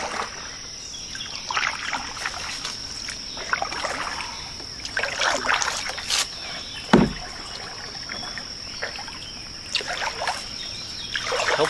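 Kayak paddle strokes on a creek hemmed in by bush, soft splashes and drips repeating every few seconds, with a steady high insect-like tone and faint birds in the background.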